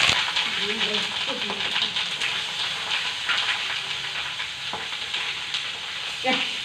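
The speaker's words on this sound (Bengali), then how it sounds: "মাছগুলো এবার ঝপঝপ করে দেবো, দিয়ে ঢাকা দেবো" Tangra fish frying in hot oil in a pan, a steady, dense crackling sizzle, loud and close, with occasional scrapes and soft voices faintly in the background.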